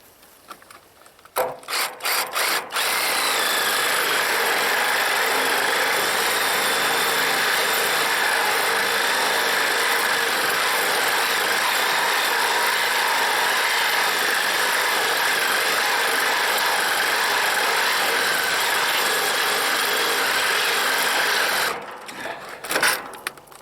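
Cordless power drill backing bolts out of a stripped-down camper trailer, a few short starts and then a long steady whine of about twenty seconds before it stops, near and loud with no talking.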